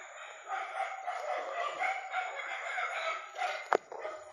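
Several dogs bark and howl in the distance, overlapping in a continuous chorus, with a sharp nearby click near the end.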